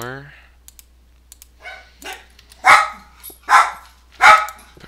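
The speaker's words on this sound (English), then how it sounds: "And my dogs are barking." Dogs bark three or four times in sharp, loud bursts close by, separated by gaps, with soft keyboard clicks and a brief voice in between.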